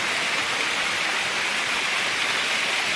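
Clear, clean water of a stream near a cave along the Narmada rushes steadily over black stone, a dense, even, unbroken wash heard close and alone.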